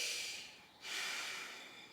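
During a heart-opening yoga posture, two deep breaths are drawn close to the microphone, one long airy breath fading out and a second starting sharply and then easing off, with no speech.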